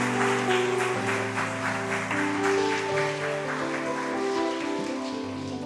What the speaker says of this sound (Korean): 박수로 환영해 주시겠습니다